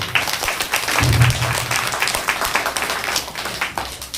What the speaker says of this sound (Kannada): ದಯವಿಟ್ಟು ಅವ್ರಿಗೆ ಒಂದು ಜೋರಾಗಿ ಚಪ್ಪಾಳೆ ಬರಲಿ